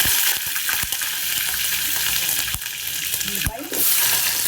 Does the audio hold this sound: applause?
no